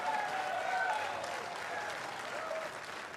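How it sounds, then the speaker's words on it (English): Crowd at a mixed doubles national championship match applauds steadily, a sustained broadband patter of clapping with murmuring voices and faint tonal whistles or calls mixed in. "You hear the crowd getting a little bit fired up here."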